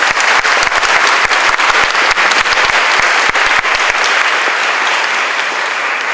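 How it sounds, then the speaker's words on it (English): A large audience at a school district's new educator orientation breaks into loud, sustained applause, dense clapping filling the whole stretch and easing only slightly toward the end, with no voices on top. "Let's give them a round of applause."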